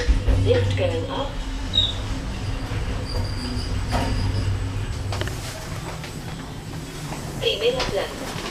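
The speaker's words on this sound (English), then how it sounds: "Lift going up." A lift in a Valencia building rises with a steady low motor rumble and faint whirring, close and continuous, with a few small clicks and a soft chime near the start and end.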